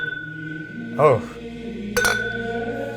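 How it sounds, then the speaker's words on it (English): Two short clinks of whiskey glasses tapped together about a second apart, dull and close, with a voice briefly overlapping the first touch. "No, we're clinking it."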